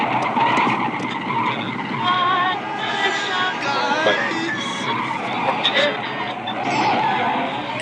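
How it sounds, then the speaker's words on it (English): A car skids and spins at length in the 1986 film Vamp, with tires squealing in wavering, shrill bursts over engine roar, mixed with voices throughout. "So the car starts spinning for a ridiculous length of time."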